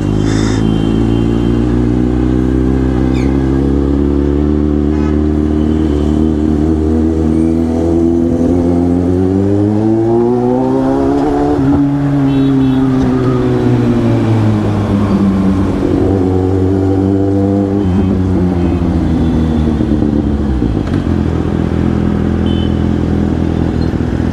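A Toyota Land Cruiser drives along, its engine humming loud and close with rising and falling revs as it shifts and accelerates, plus light rattling from the cabin, with no voices.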